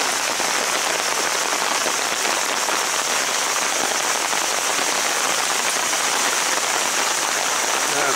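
Heavy rain pours down in Nara Park, a dense, steady hiss of drops striking surfaces that stays loud and unbroken throughout.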